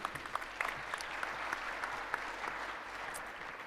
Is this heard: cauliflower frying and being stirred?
no